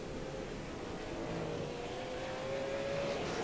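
Race cars roaring around South Boston Speedway during the SARA Throwback 200, a steady, loud engine drone that swells slightly toward the end.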